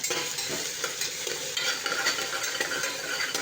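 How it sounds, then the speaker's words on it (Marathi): Cumin and ground masala sauté for pea rice in a pan, giving a steady close sizzle with frequent stirring scrapes throughout and no voices. "तो छान परतून घेणार आहे"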